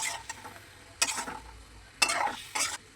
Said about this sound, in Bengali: এখন নাড়াচাড়া করে মিশিয়ে নেব